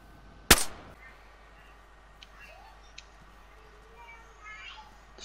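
A single sharp gunshot cracks out near the start, followed by faint scattered clicks and low background noise.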